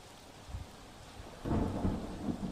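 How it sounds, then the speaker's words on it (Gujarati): Heavy rain pours steadily over waterlogged roads in Mahisagar, Gujarat, with low rumbling underneath, the downpour swelling louder about halfway through. "ધોધમાર વરસાદ વરસી રહ્યો છે"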